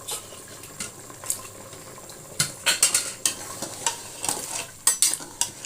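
Beef frying in ghee in a karahi, sizzling under a bed of hiss, punctuated by sharp scrapes and clanks of a spoon stirring against metal at irregular intervals.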